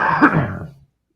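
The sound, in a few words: coughing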